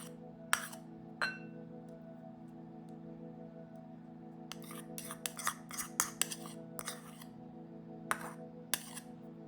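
Bright clinks from a glass bowl as 110 grams of unsalted butter is added for a butter cake, scattered sharp taps, with a cluster in the middle and a steady hum beneath.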